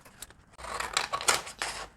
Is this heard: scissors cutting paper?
yes